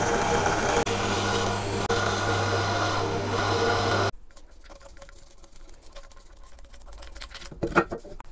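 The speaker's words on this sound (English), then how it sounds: "I may as well set it up to drill out for the mortise in the foot." A pillar drill bores out a mortise in a wooden foot, its steady motor hum and cutting noise running loud for about four seconds before cutting off, leaving faint workshop clatter and a few light knocks.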